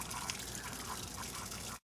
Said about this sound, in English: I just turned the city water back on to the RV, and we will allow that to flush out the hot water tank for about 5 minutes.